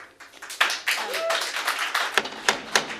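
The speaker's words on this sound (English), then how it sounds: "I ask that there be no clapping." Scattered hand claps from a small audience at a public meeting, irregular and fairly close, with a few louder individual claps standing out.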